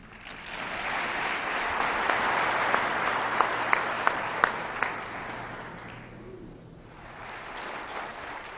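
An audience applauds to welcome speaker Jim Cathcart, a sustained wash of clapping from a crowd with a few louder, sharper claps standing out before the sound thins and fades.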